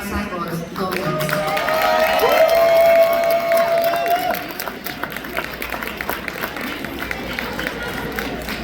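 Crowd at an award dinner applauding and cheering for a winner, a dense sustained wash of clapping that swells for a few seconds and then settles, with voices mixed in.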